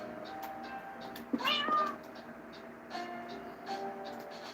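A cat in a ship-building video game gives a single clear meow, set against a steady low engine drone and faint tonal game sounds, with softer electronic chirps following.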